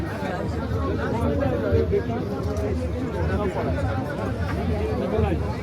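On the route to Kedarnath, a crowded market hums with steady chatter, many voices blending into a close, continuous murmur without a break.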